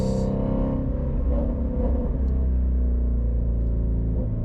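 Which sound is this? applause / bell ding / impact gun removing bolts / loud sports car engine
loud sports car engine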